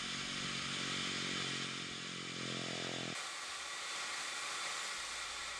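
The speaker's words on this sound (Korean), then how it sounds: "땅속에서 올라오는 수증기가 마치 끓고 있는 주전자처럼 소리내면서 뿜어져 나오고 있다" Geothermal steam vents forcefully from the ground with a steady, loud roaring hiss, like a boiling kettle, and the tone shifts abruptly partway through before continuing unbroken to the end.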